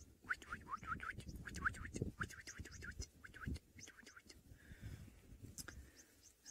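Winding cisticola singing at sunset in the Mara, a series of short, high, repeated chirping notes in quick bursts, close and clear over soft rustling and handling noise, with occasional whispering.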